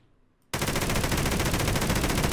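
Sudden loud burst of rapid, continuous Minecraft lucky-block explosions starting after a brief quiet moment, dense and sustained like a barrage.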